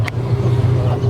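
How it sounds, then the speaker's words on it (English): A Corvette at a drift event gives off a steady, loud low engine drone throughout, with a brief sharp click near the start. "That's the Corvette, huh?"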